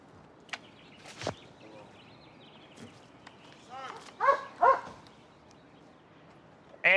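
A police K9 dog tracking a suspect lets out a few short, muffled barks and yips at a distance. Outdoor noise and scattered officer speech sit around them.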